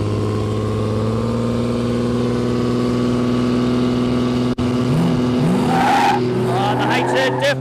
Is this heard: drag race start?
yes